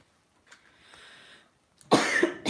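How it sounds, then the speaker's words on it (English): A faint breathy rasp, then a loud, close, harsh cough burst toward the end. "Why doesn't this cough go away?"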